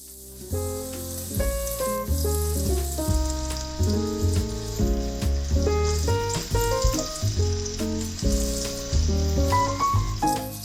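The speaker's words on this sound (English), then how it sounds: "Then place the pork chops in, one by one." Pork chops sizzle in hot oil in a pan, a steady frying hiss under prominent melodic music that plays throughout.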